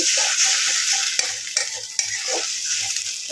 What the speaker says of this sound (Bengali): আর পাশে আমি রায়ের ডিমটা এখন ঘেটে নিচ্ছি